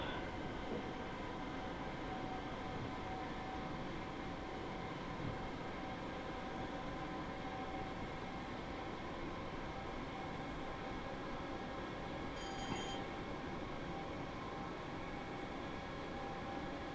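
Class 313 electric train running on the East Coastway route in Train Sim World 2, giving a steady rolling drone with a sustained motor whine and a brief faint high chirp near the end, no voices.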